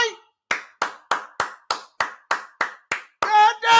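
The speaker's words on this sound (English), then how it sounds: "can we give Jerry Jones and Stephen Jones a round of applause" About nine sharp, evenly spaced hand claps ring out close by at an NFL draft watch party, then a voice cuts in over the last of them.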